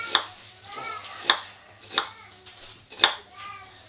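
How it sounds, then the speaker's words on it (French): Onions are chopped for an autumn spaghetti sauce: five separate sharp knife strikes on a cutting board at an unhurried, slightly uneven pace, each a crisp close knock that quickly fades into a quiet room. "on va couper nos oignons"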